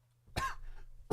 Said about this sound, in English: I made myself laugh and cough.